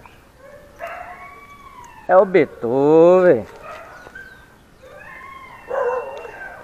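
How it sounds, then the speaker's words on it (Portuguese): A pit bull puppy howls in a loud, wavering cry lasting about a second, with softer whimpers and yips before and after, while someone speaks Portuguese nearby. "Esse aí mesmo que tá uivando"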